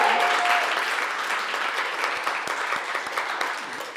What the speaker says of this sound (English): Give them a massive cheer.